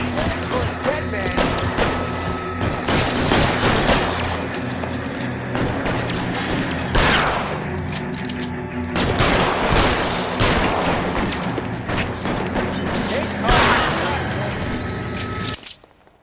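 A gunfight in the L.A. Noire video game, with dense bursts of gunfire and booming shots crowding together nearly nonstop, loud and close, with a voice speaking over the battle.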